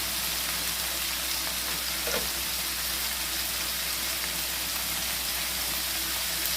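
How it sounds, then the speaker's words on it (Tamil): Chopped tomatoes sautéing in a pan with turmeric and salt, giving a steady, loud, close sizzle and hiss that holds without a break and has no talking over it. "அதையும் சேர்த்து நல்லா வதக்கி விடுங்க"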